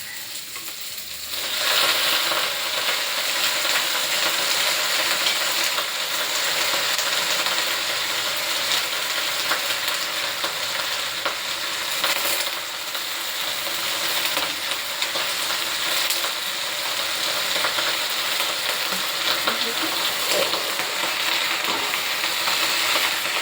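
Onions and curry leaves sizzle in a hot pan with a steady, dense crackle, while a spoon stirs in scraping, rattling strokes throughout; no talking.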